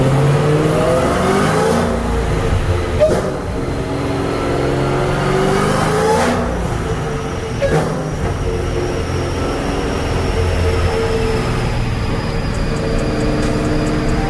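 A Dodge Hellcat fitted with a 426 Hemi, boosted, revs steadily toward 2500 rpm, a loud sustained engine drone with rising harmonic sweeps and a few sharp surges, close by with no talking.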